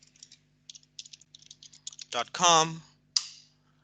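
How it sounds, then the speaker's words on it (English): A computer keyboard is typed on as a web address is entered, giving quick bursts of crisp keystroke clicks with short pauses, and a voice briefly cuts in near the end. "all you need to do is type in office.com"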